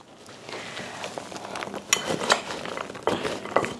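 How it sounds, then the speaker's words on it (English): A spoon or spatula scraping the bottom of a mixing bowl of crumble batter with dry ingredients, giving irregular close scrapes and clinks that build in loudness, with no voice. "scrape the bottom of the bowl so that you're not going to get a clump of dry ingredients"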